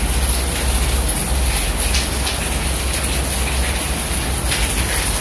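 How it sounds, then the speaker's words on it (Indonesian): Heavy rain pours outside an abandoned office building in a dense, constant hiss, loud and unbroken throughout, with no voices. "Ini di luar deras banget hujan."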